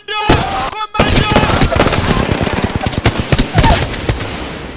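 Loud, close automatic gunfire in a video game rattles in rapid bursts with a brief gap near the start, then sustained firing with sharp individual reports.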